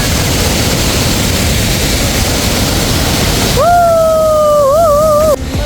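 A river rushes loudly and steadily beside the hiking trail to Pangsam waterfall, a dense close roar of water, with a drawn-out voiced exclamation rising over it near the end.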